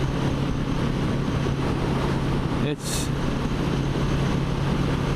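A Kawasaki Z650RS motorcycle engine hums steadily while riding, with a constant low drone and wind rush, briefly dipping as if shifting gear.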